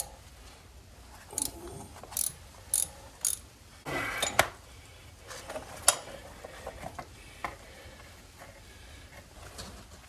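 A wrench works bolts loose on a bevel gear steering housing, producing a handful of sharp, separate ratcheting clicks and metallic knocks at close range, with quieter mechanical rattles in between.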